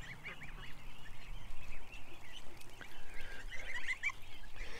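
Geese honk repeatedly at close range in an outdoor morning setting, the calls overlapping in a busy, steady chorus with faint background noise and no talk.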